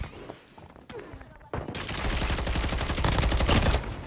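Sustained automatic CR-56 AMAX gunfire in a video-game gunfight, a rapid dense burst of loud shots starting after a quieter lead-in with scattered faint shots, continuing steadily to the end.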